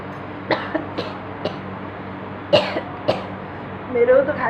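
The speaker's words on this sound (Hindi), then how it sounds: "मेरे को तो खाली खांसी आ रही है" A woman coughs in several short, sharp bursts, about five spaced across a few seconds, close to the microphone, followed by a brief murmur of her voice at the end.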